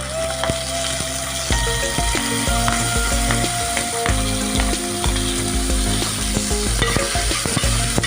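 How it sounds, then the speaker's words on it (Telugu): Onions and green chillies drop into a hot curry-leaf tempering in oil, giving a loud, dense crackle and sizzle with sharp popping ticks that stays busy throughout. "కరివేపాకు తాలింపు వేగిందండి ఇప్పుడు మనం దీనిలో ఆనియన్స్ వేసుకోవాలి ఆనియన్స్ పచ్చిమిరపకాయలు"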